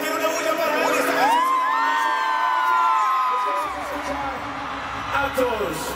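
Concert crowd at a live reggaeton show, cheering, whooping and shouting continuously and loudly, with a sustained yell rising over the roar and an MC-style voice calling out near the end.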